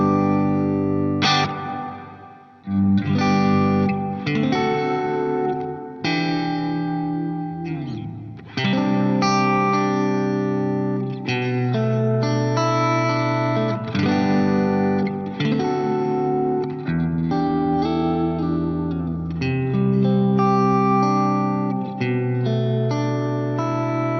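Electric guitar played through the Glitz reverb on a Line 6 POD Go with high decay, sustained chords and notes blooming into long shimmering tails, loud and continuous with no talk.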